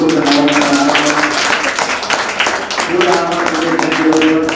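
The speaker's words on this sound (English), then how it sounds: "A big round of applause for Yusuf and all." Audience clapping at a school robotics expo, a dense burst of many hands applauding fairly loud and close, dipping briefly midway before swelling again, with voices mixed in.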